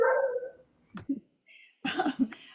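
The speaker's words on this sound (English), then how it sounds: "It sounds like the dog wants to go." A dog barking indoors in a few short separate bursts, moderately faint, with a pause between them and no talk over it.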